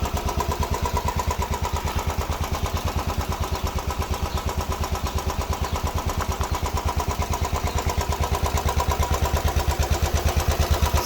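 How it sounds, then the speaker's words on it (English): DugDug motorcycle engine idles after its kick start seal and drive seal were replaced, running on thicker 20W50 oil. The beat is fast, even and loping, close and steady throughout, with no talking. "She's been running for about 5 minutes, just sitting here idling."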